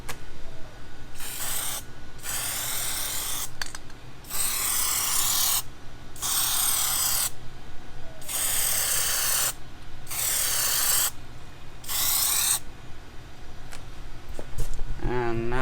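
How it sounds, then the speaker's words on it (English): An aerosol can sprays Plasti Dip rubber coating onto a car tire in long hissing bursts, about seven sprays of one to two seconds each separated by short pauses, close and steady, with no talking. "after each coat we're just gonna spray a nice layer on the tire"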